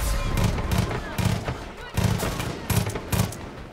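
Gunfire and explosions from a Far Cry 5 firefight, with repeated bursts of shots and heavy blasts coming in clusters, loud and close, with brief gaps between volleys.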